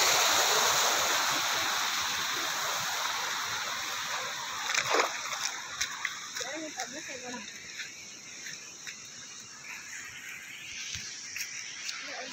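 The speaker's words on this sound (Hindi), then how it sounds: "गाइज़ आप लोगों को मज़ा आया होगा झरना नदी देख के।" A monsoon-season river and waterfall rush in a continuous broad roar, loud and close at first and easing a little, with scattered splashes and brief clicks breaking through later.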